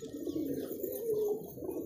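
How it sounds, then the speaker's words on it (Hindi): Pigeons of a Bhutan breed coo close by: a soft, low, continuous burbling coo lasting about two seconds, with no voices. "दोस्तों ऐसे कबूतर बड़े नसीब वालों को देखने को मिलते हैं"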